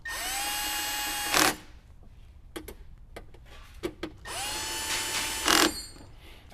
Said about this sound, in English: go ahead and tighten those button heads down